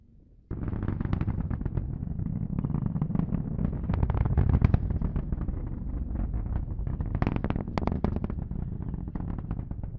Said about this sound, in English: Engine start and liftoff of SpaceX's Falcon 9 rocket